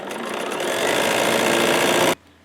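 A sewing machine stitches fabric for a quilt block in a continuous, close, even mechanical whir that builds slightly, then stops abruptly after about two seconds, leaving near silence.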